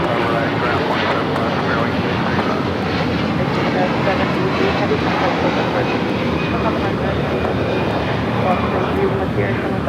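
Jet engines of an Airbus A330 airliner at Los Angeles International Airport give a loud, continuous roar throughout, with a voice speaking over them.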